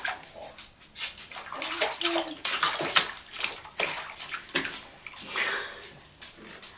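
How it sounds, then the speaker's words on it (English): Repeated splashing and sloshing of bathwater as a young child slaps the water, uneven slaps in quick bursts, close by, with no talking. "She likes hitting the water."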